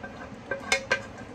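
Shepherd's pie filling of cooked meat and spinach being spooned into a pie dish, with three quick, faint clinks of utensil against dish over a quiet kitchen background.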